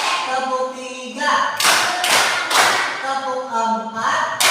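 A class claps along in a counted pattern, sharp bursts of many hands ringing out between stretches of a teacher's voice, the clapping loud and close in a school classroom.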